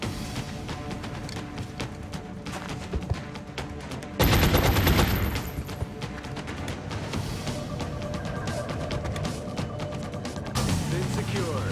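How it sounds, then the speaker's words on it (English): Sustained bursts of gunfire in the XCOM: Enemy Within video game, dense and loud throughout, with a sharper, heavier volley partway through and voices faintly underneath. "Incoming fire!"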